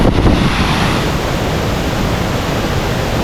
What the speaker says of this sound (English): Getting covered in waterfall mist.